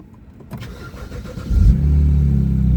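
A car with a patched exhaust cranks briefly, catches and settles into a steady, fairly quiet low idle, heard close and alone.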